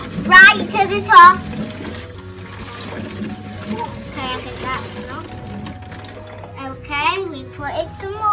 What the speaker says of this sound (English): if you haven't got any rain, you'll use a tap. So this one's a cold one, this one's a hot. So let's put some cold in.